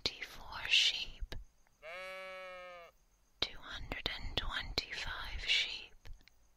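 One steady, clear baa imitating a sheep's bleat lasts about a second between stretches of intimate, breathy whispering heard up close in a quiet room.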